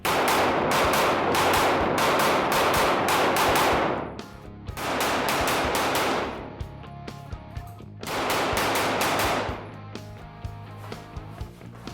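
Rapid strings of shots from a Wilson Combat WCP320 9mm pistol at an indoor range, fired in three loud bursts of fast, evenly spaced rounds separated by brief pauses.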